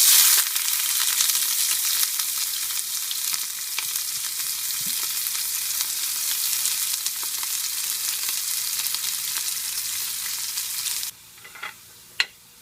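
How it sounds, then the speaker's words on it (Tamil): Sliced big onions for a Spanish omelette fry in a pan with a loud, continuous close sizzle for about eleven seconds, then the hiss drops away, leaving a few faint clicks and one sharp tap at the end. "இந்த வெங்காயம் நல்லா செவக்க வறுத்தாச்சு."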